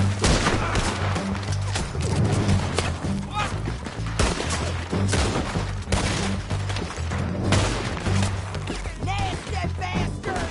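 Sustained gunfire from a Red Dead Redemption 2 shootout, with dense, rapid shots and heavy booms piling over one another at close range, loud throughout the whole stretch alongside game music and voices.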